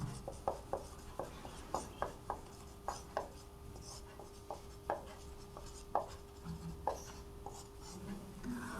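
Marker or chalk strokes on a board in a class 12 maths lesson: a run of short scratchy taps and squeaks at an uneven pace, fairly quiet, with no talking.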